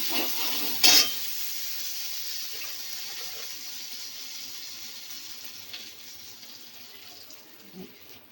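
Oil sizzles quietly in a frying pan while a Bengali dish of bottle gourd greens, shrimp and jackfruit seeds is cooked; a steady soft hiss follows a brief louder splash near the start and slowly fades.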